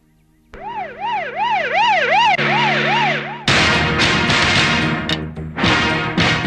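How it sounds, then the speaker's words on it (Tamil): An ambulance siren wails up and down in a rising-falling pattern, close and loud, then switches to a faster, harsher warble as traffic noise swells. "இந்த ஆம்புலன்ஸ் அடிக்கடி வருதே"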